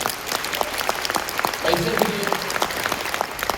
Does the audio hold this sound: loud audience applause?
yes